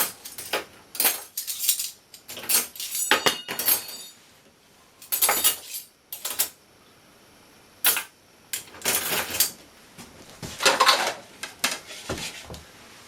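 Plates, bowls and small dishes clatter and clink as they are set into a wooden cupboard in an old off-grid log cabin, a series of bright, close knocks and rattles in irregular bursts separated by short quiet gaps.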